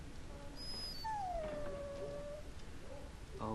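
A dog in the Dragon Age: Origins video game gives a single drawn-out whine that slides downward in pitch, faint against a steady background hum of game ambience.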